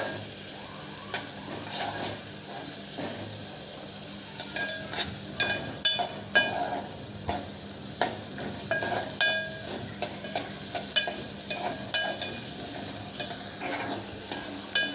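Onions sauté in a pan for idli sambar, a steady soft sizzle broken by repeated scraping clicks of a spoon stirring against the pan, close and clear with no voices.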